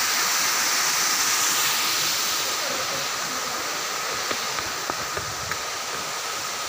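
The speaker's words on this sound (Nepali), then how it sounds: "यो चाहिँ है मिलुङ झर्ना" Milung waterfall in Panchthar pours in a constant, full rushing roar, heard close and unbroken throughout, with a few faint clicks near the end.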